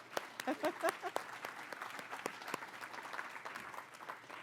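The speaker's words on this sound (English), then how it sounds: "So a great round of applause to our co-presenting sponsors" Applause from a conference audience at a transportation update event, heard faintly and somewhat distant with scattered claps and a little crowd noise, steady for about four seconds.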